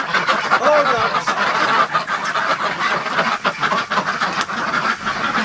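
A group of Muscovy ducks quacks and chatters continuously, a busy overlapping din of calls close by, in a barn on a freezing, windy day.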